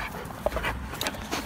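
A pitbull pants in quick, soft breaths close by, with a few small whimpers or squeaks mixed in and no speech.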